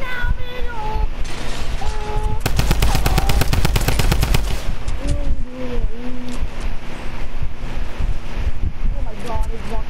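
Rapid automatic gunfire in a video game sounds as a loud sustained burst of close shots lasting about two seconds amid wind-like noise, with people talking before and after.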